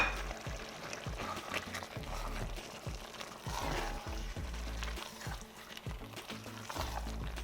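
Mushrooms frying in a pan for a cabbage stew, a steady close sizzle with repeated low knocks and scrapes of stirring throughout, no voices.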